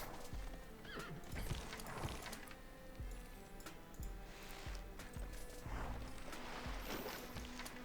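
Gran Colombia horse units move in a Civilization-style strategy game, with steady rhythmic hoof clip-clops and occasional neighs and whinnies over a busy, constant background of game sound.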